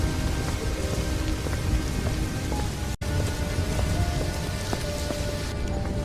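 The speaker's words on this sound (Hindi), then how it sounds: "रास्ते में बहुत जोरों से बारिश शुरू हो जाती है।" Heavy rain pours down steadily on a road at night during a storm, a dense, continuous roar close by with no voices.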